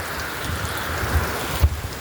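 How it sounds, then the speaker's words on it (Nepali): Heavy rain pours in a steady, dense hiss with a cold wind blowing, the downpour continuous and close throughout, with a brief louder thud near the end. "आमा कस्तो ठुलो पानी पऱ्यो"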